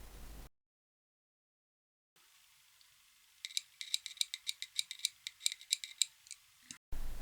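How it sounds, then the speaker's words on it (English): A small passive buzzer for a Pi1541-III board, powered from a small battery, emits a rapid series of faint, sharp ticks in an irregular rhythm, following a stretch of near silence. "The correct passive buzzer will make a sort of ticking sound like this."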